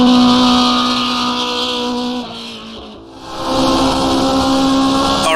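A 1971-style Formula 1 car engine roars in rFactor2, a loud sustained whine that dips briefly as the revs drop, then climbs back to full howl.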